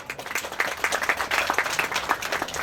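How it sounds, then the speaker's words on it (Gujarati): Brisk applause from an audience at a Viksit Bharat Sankalp Yatra event at Takhteshvar temple in Bhavnagar, many hands clapping close together, steady and fairly loud with no talk. "તો એકવાર આપણી ભારત સરકાર માટે પણ જોરદાર તાળીઓ થઈ જાય."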